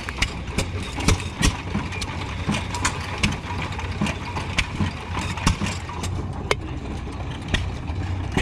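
A Cummins diesel engine idles at an antique machinery show, a steady mid-pitched running note with faint mechanical clicks and ticks through it, moderately near and continuous.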